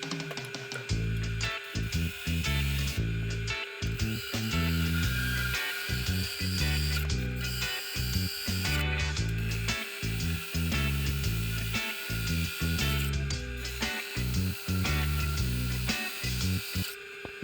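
Wood turning on a lathe: a cylinder is cut down to 81 mm as the blank for an 80 mm sphere. A rough, pulsing scraping hum continues throughout, with brief gaps as the cutting tool lifts off.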